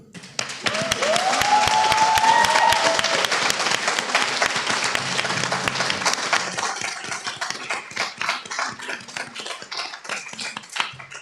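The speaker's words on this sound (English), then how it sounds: "So applause for the group." Applause from an audience at an artist talk, a dense steady wash of clapping that swells early and holds for about ten seconds, with a brief sustained tone near the start.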